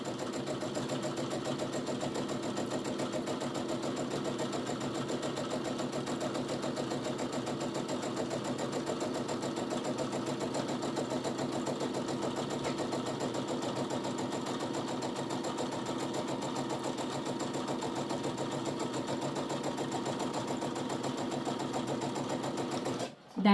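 A sewing machine hums in one steady, unbroken run while stitching up the side of a fabric bag. It is close and moderately loud, and a voice talks over it.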